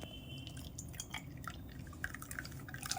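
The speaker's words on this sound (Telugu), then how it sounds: "ఇప్పుడు దీన్ని వడకేసుకుందాం." Freshly blended orange juice strained through a sieve, faint irregular drips and trickles of liquid falling into a container, quiet and close with no voices.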